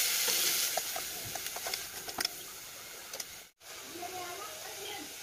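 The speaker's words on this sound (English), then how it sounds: "So now let's put our beef into the pan." Beef sizzles in a preheated, oiled pan for Texas red chili con carne: a steady bright hiss with scattered pops and light stirring ticks, briefly cutting out midway before resuming.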